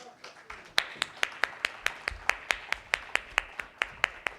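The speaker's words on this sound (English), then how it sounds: "so do these claps they bring a lot of glow to your face" Rhythmic clapping at a corporate talk on customer delight and productivity, a steady even beat of sharp claps repeating about four times per second, close and clear with little else around it.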